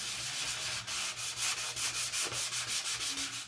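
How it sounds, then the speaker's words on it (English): Sandpaper lightly roughens a plastic sheet in quick, even back-and-forth strokes, about four per second, close and soft with no talking. "you can really lightly sand this plastic to roughen it up a little bit, just like I'm doing here."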